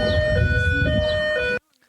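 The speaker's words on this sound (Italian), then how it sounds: "L'allarme è scattato poco prima delle 14:10 e le sirene hanno iniziato a suonare." A loud volcano alarm siren in Sicily blares with steady, sustained tones over traffic rumble, then cuts off abruptly, leaving near silence.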